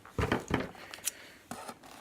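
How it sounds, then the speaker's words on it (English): Scissors snip into a heat-sealed plastic package holding another pair of scissors, a few quiet close crinkling cuts and plastic rustles with short pauses between them. "I need scissors to open this package of scissors"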